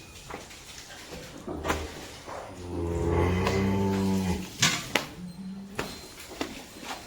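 In a cattle shed, a cow or calf lets out one long, loud, drawn-out moo in the middle, framed by sharp knocks and clatters from the stall, with quieter rustling before and after.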